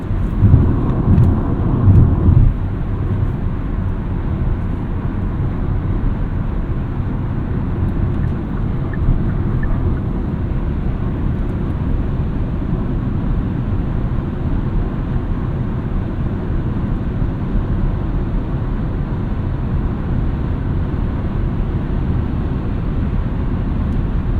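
A 2023 Kia Sportage Hybrid LX drives along, heard from inside its quiet cabin: a steady low rumble of road and powertrain noise with a brief bump of louder thumps at the start.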